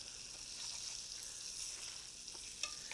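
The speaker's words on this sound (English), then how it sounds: "they're really only going to take just a few minutes of sautéing" Food sautéing and browning in a pan on the stove, giving a faint, steady sizzle and hiss with a few small crackles near the end, quiet, with no talking.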